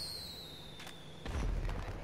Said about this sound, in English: I guess that's why you don't use fireworks at close range